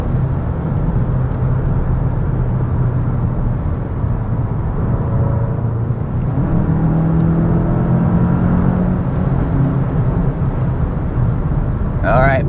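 A 2025 VW Jetta GLI with a manual gearbox cruises in third gear on fresh, smooth pavement, its engine holding a steady, low hum with road and wind noise from inside the cabin.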